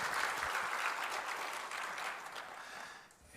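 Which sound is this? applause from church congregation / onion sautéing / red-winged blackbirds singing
applause from church congregation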